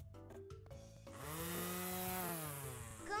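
In a car-wash video game, a blower whooshes water off a car with a loud, rushing hiss that swells and lingers over bright, playful background music.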